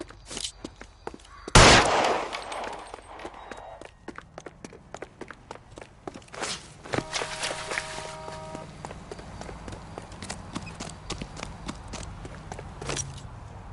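Gunfire in the video game L.A. Noire: one loud, close shot stands out early, followed by scattered sharper cracks and footfalls amid a busy, clattering game soundscape.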